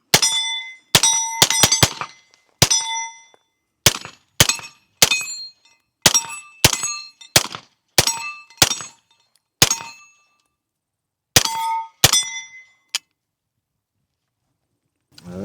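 Shots from an SLR9 AR9 carbine ring off steel targets as a series of sharp metallic clangs, some in quick doubles and triples, spaced irregularly across the stretch with quiet gaps between them.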